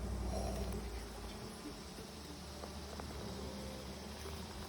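Honey bees buzzing steadily during a hive inspection, a dense continuous hum up close around the open hive, even in loudness throughout.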